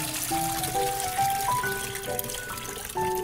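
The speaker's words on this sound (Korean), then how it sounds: "자, 가서 물기를 한번 따라 보겠습니다." Water drains off cooked ginseng pork belly, a steady trickle and pour with gurgling, bubbly tones running for a few seconds, close and moderately loud with no talking.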